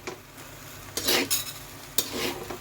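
A spatula stirs fried rice in a hot pan in two distinct scraping strokes about a second apart. They are quiet and close over a faint background, with no talk.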